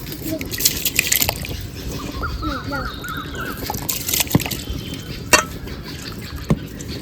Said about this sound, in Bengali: জল গরম হয়ে গেছে চাল দিয়ে দেবো